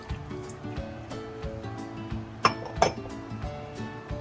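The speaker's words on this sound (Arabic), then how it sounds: "ونفضل نقلب" A spoon stirs a kunafa cream mixture with vanilla and lemon juice in a pot. Quiet scraping is punctuated by two sharp metallic clinks against the pot near the end.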